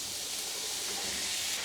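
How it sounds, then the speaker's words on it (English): Zucchini and other vegetables sizzle in hot oil at maximum heat, giving a steady, even hiss with no break and no voices. "this is zucchini, and you can see that it's sizzling"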